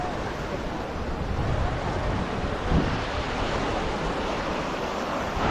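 Waves wash onto Revdanda beach in Alibaug, a continuous broad roar of surf mixed with gusty wind on the microphone, with no clear voices.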